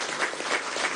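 Short burst of crowd clapping at a political seminar on peace in Venezuela, even and fairly loud throughout.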